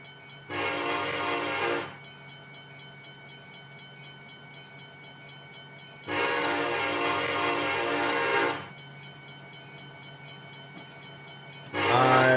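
A train in the Train Sim World 2021 video game sounds its horn in long blasts, two sustained and one starting at the end, over a steady rhythmic clatter of wheels on the rails.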